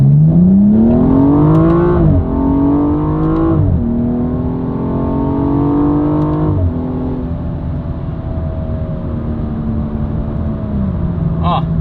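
A BMW M235i with its muffler deleted accelerates hard, its loud engine note climbing through the revs with drops at gear shifts around two, four and six seconds, then holding a steady high drone.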